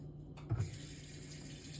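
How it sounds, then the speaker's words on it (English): Water runs steadily from a kitchen tap into a pan being filled for steaming bread in the oven, a continuous splashing rush with a brief thump partway through and no talking. "I'm just filling a pan with water"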